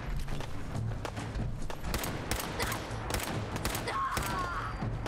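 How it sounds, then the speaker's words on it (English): Gunfire in the video game Fallout 4 at point-blank range: rapid bursts of shots and thuds over a busy, dense game soundscape, with a voice briefly audible. "I have been popping this dude full of holes at point blank and none of my bullets hit."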